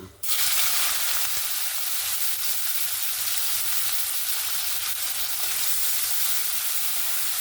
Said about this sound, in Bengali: এবার আমি কেটে রাখা পেঁয়াজগুলো দিয়ে দেব।